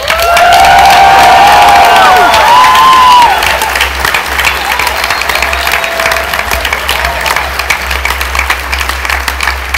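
A convention-panel audience at New York Comic Con cheers and applauds loudly and densely, with shrill whoops and shouts on top. After about three seconds the noise eases into steady clapping and crowd murmur.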